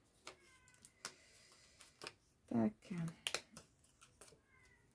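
A house cat meows twice in quick succession at close range, short rising cries standing out over faint clicks and handling noise at a crafting table, with a brief spoken word just after.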